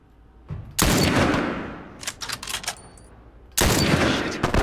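Gunfire in The Last of Us Remastered; loud, close bursts of shots with ringing decay, a short cluster of quicker pops in between, then another heavy blast, with no talk over it.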